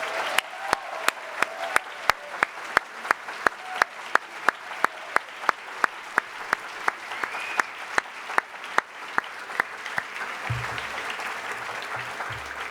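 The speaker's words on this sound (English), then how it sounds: "So let's have one more round of applause for all of our finalists." Audience applause for book award finalists at a literary reading event, a steady crowd clapping that runs for several seconds with sharp individual claps standing out near the front.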